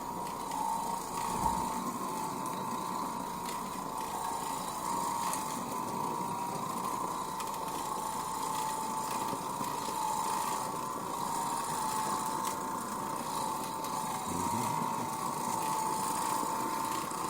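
An Oreck Orbiter floor machine works over worn, damaged carpet, producing a steady, close motor drone with a constant hum and brushing noise that runs unbroken throughout, with no one talking.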